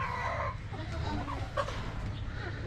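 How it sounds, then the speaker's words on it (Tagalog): Roosters cluck and call in a noisy farmyard, with a steady low rumble underneath and a few sharper squawks rising over the flock. "Marami kasi akong tandang dito."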